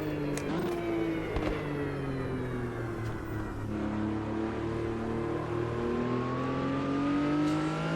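Race car engine in Automobilista 2 holding a steady, loud drone through a lap, pitch sliding down then climbing again as it brakes and accelerates, with no talk over it.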